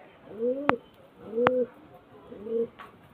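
A pigeon coos three times in a slow, even rhythm, each call a soft, near, two-tone throaty note with a brief click, heard alone in a quiet setting.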